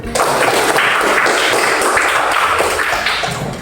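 Schoolchildren in a classroom applaud the day's duty students, producing loud, continuous dense clapping that holds steady for a few seconds before easing slightly at the end.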